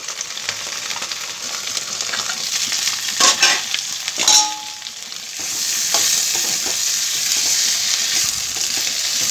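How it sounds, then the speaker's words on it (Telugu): Sesame seeds, coriander, curry leaves and green chillies frying in oil, a loud close sizzle with crackles and a few sharp stirring scrapes, the sizzle swelling steadily toward the end. "నువ్వులు, కొత్తిమీర, కరివేపాకు, పచ్చిమిర్చి మంచిగా వేగినాక"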